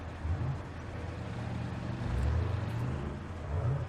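An armored vehicle's engine in Arma 3 revs up, a steady low rumbling drone that swells briefly midway, with no talk over it.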